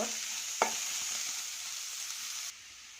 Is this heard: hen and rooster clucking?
no